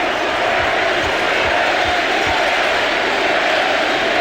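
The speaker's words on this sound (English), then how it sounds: "This crowd tonight, as Barry hits the first, has simply been unbelievable. Deafening." A deafening basketball arena crowd at a Sacramento Kings playoff game against the Lakers roars without letup, a dense, loud wall of cheering punctuated by rhythmic low stomps or claps.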